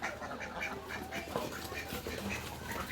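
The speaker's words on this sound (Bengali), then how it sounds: "এই দেখো ময়া, দেখো কি হাঁস" Ducks at a village homestead quack in a steady chorus against constant outdoor background noise, the calls fairly faint and overlapping with no clear break.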